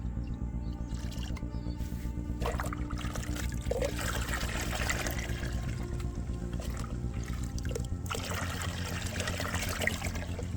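Water pours steadily into homemade liquid fertilizer to dilute it, a continuous close trickle and gurgle lasting several seconds at an even level.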